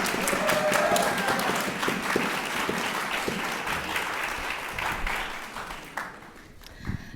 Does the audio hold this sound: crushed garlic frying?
no